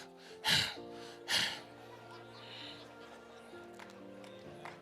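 A voice imitates breathing in and out, two sharp, close audible breaths in quick succession, followed by quieter room tone with faint murmurs.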